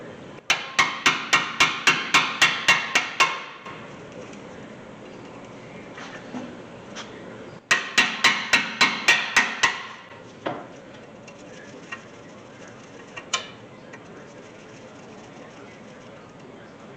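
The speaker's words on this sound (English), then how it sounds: "you'll have to use the impact screwdriver to get these Phillips screws out." Two bursts of rapid, evenly spaced hammer blows ring out on an impact screwdriver loosening Phillips brake screws on a 2013 Honda Civic, loud and close, separated by a pause with a few scattered clinks.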